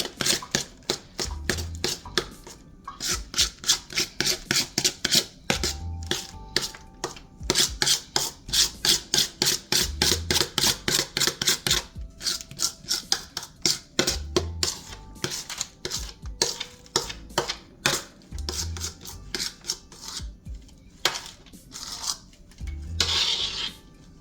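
A spatula scrapes whipped no-bake cheesecake filling for banana cheesecake bars out of a bowl, in long runs of rapid, rasping strokes with brief pauses, close and clear.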